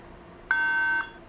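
A single steady electronic buzzer beep on a French TV quiz show, lasting about half a second, clear and fairly loud against a quiet studio.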